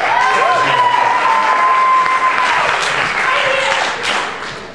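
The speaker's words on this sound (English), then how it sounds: "give yourselves a round of applause" A theater audience applauds and cheers in a continuous, loud wash of clapping that tapers slightly toward the end, with voices mixed into the crowd noise.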